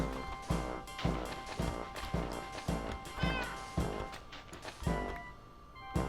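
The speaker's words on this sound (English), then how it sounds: "Cat's really chatty today." A cat meows repeatedly in short calls over a steady, rhythmic musical backdrop, with no voices.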